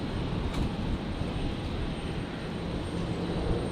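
An airliner on landing approach to runway 01 right at Brisbane airport on a stormy night gives a steady, distant broadband jet roar, fairly faint and unbroken throughout.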